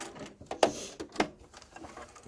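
A sewing machine stitching fabric mask strips, a short quiet run of mechanical whirring with two sharper clicks, heard close with no talking.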